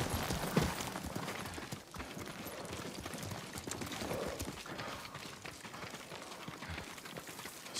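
Horse hooves clip-clop steadily across terrain in the samurai game Ghost of Tsushima, a continuous rhythmic trot at moderate distance with no other sounds over it.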